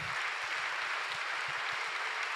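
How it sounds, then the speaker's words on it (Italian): A crowd applauds steadily at a university Tocco ceremony in 2024, a dense wash of clapping from a large room, continuous throughout. "Intanto un applauso al prorettore che ha fatto il lavoro"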